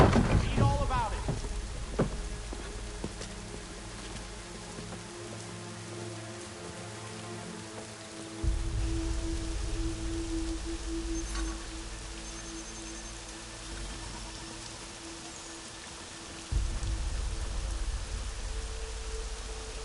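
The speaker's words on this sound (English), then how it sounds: "Rain happening." Steady rain hisses across the scene in the video game Assassin's Creed 3, a constant wash with low rumbling swells and faint background tones, no voices heard.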